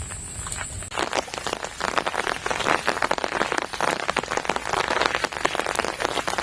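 Steady rain pattering close by on a surface, dense, continuous drops after a brief quieter start, with no voices.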